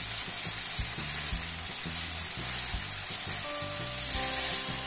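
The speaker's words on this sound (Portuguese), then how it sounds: "E aí vamos colocar os drumetes. A gente vai virando elas para elas ir dourando de todos os lados." Chicken drumettes sizzle and fry steadily in a pan as they brown for a Coca-Cola sweet-and-sour chicken, with a constant hiss and soft scraping from turning the pieces.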